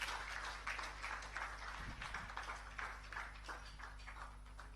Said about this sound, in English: I will ask that you clap for them once again